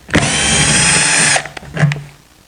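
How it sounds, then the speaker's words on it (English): A power drill backs out two drywall screws from a wooden mobile grill island storage cabinet. It whines loudly for just over a second, then gives a shorter second burst that bogs down lower. No one speaks. "Now I can take those two drywall screws out."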